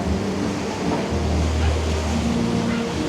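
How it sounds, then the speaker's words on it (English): Strong gusty wind from Hurricane Melissa blows through a coastal community in Port Royal, Jamaica, a broad continuous roar with low buffeting, near and fairly loud. "You can see the wind now is intensifying over here."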